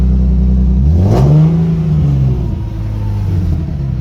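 A wrecked Nissan 370Z's engine idles steadily and loudly up close, with one brief rev that rises and settles back into a slightly raspy, continuous running tone.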